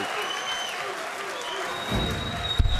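Audience at a BDO World Championship darts match applauds, a short burst of steady clapping from the crowd with a commentator talking over it.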